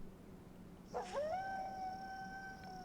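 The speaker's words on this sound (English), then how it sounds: "You hear the wolf howl?" A wolf howls in the video game Lies of P: a single long, rising, wavering cry that swells and then holds steady for about two seconds over a quiet background hum.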